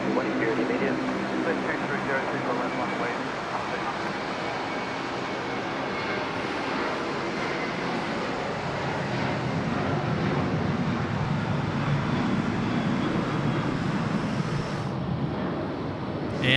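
A jet airliner on Qantas flight 43 to Denpasar takes off at night at Sydney Airport, a broad sustained engine roar that swells toward the end, heard at a distance with people talking over it.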